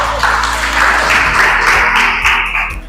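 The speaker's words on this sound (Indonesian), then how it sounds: "Tepuk tangan." A burst of loud, dense clapping from a group in a classroom lesson, steady for a few seconds over a low background hum.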